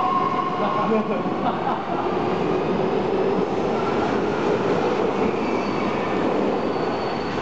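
Steady, loud rumble of a train at a station in Japan, with wheel squeal and metallic clatter over constant background noise.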